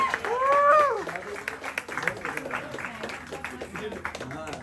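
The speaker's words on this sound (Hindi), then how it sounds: "तालियां।" Guests clap at a wedding anniversary party, scattered applause rising after a voice fades, with cheering and chatter mixed into the crowd noise.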